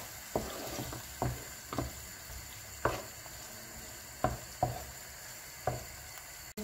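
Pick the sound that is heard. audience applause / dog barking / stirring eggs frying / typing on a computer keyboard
stirring eggs frying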